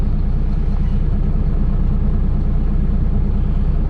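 A 2002 Volvo water tanker street flusher runs with a steady, loud, low diesel rumble, close by and unchanging, with no talk over it.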